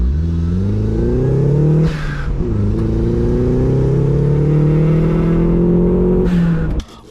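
A turbocharged Mazda Miata, a cheap auction car, revs hard up close, its engine note climbing in repeated rising sweeps with brief dips between pulls before cutting off sharply near the end.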